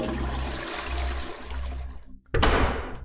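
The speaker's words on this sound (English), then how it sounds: "Oh, you get to flush a toilet." A toilet flush in the video game Among Us, a loud rushing gush of water that cuts off, then after a short pause a second sharp surge of draining water, close and clear.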